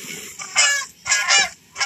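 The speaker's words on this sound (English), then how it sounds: "those geese in the air, that's where the noise is coming from" Geese honking overhead in a few bursts of loud, nasal calls, separated by short pauses, with birds at a moderate distance.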